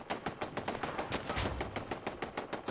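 Rapid automated turret gunfire in Fallout 76, a fast regular burst of about twenty sharp shots, loud and close, with no talking.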